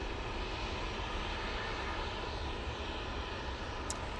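An airliner taking off from Manchester Airport, its engines a steady, broad roar held loud and unbroken throughout with no voices.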